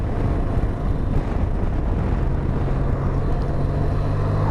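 A 2023 Benelli 502TRK adventure motorcycle with a Max Torque exhaust being ridden, a loud steady engine rumble mixed with heavy wind roar, continuous and close with a low droning tone rising slightly toward the end.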